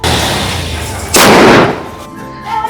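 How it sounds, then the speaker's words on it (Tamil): A single firecracker bursts nearby, a loud sharp blast with a broad crackling wash lasting about half a second, set against outdoor background noise. "பட்டாசு வச்சிருக்கோம், வெயிட் பண்ணுங்க"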